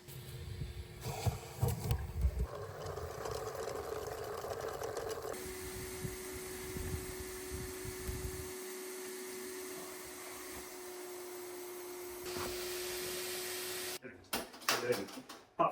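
A vacuum drones steadily with a gurgling, slurping roar, its pitch shifting as it sucks up water, then cuts off near the end with a few clunks.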